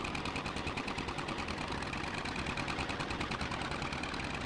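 An old tractor engine sputters in a steady, rapid putt-putt rhythm, loud and continuous throughout with no talk over it.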